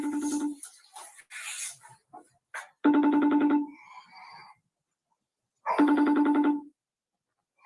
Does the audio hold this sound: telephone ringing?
yes